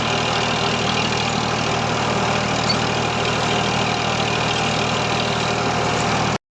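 An Eicher tractor engine idles in a steady, unbroken mid-low drone, close and fairly loud, running alone without any talking until it cuts off at the very end.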